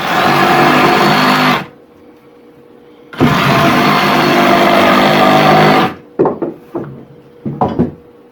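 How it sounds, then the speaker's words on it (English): A reciprocating saw cuts through wood for a raised garden bed, two loud sustained bursts of buzzing with a pause between them, followed by a few short knocks and clatters. "if you got a sawzall, you finish it up with a sawzall"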